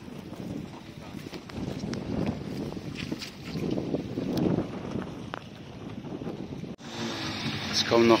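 A small fast passenger boat crosses open water on the way into the Casamance, its engine rumble and hull splashing running steadily, mixed with wind buffeting the microphone and a louder rush of spray near the end.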